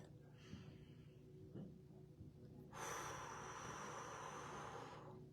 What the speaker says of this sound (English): Taking a deep breath.